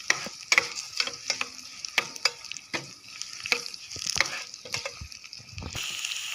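Shallots and curry leaves frying in hot oil as seasoning for mor kozhambu: a close, steady sizzle with irregular sharp crackles and pops, and spatula stirring scrapes throughout, with no talking.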